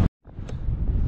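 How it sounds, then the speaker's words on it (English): Heavy wind buffets the microphone with a loud, continuous low rumble after a brief silent gap. "It is extremely windy"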